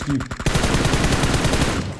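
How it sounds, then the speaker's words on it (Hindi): Rapid automatic gunfire in the battle royale game BGMI, a dense burst of repeated shots following a couple of sharper opening reports, loud and close throughout. "आगे से गोली चला रहा है। ये ले, अब चला गोली"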